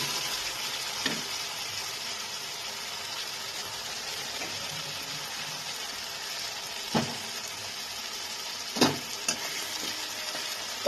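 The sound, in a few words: tomatoes frying in a pan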